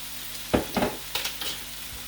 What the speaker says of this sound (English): We'll give that a nice stir.